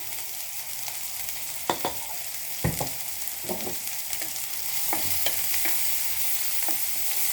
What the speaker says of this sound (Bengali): পেঁয়াজগুলো একটু ভালো করে ভাজতে হবে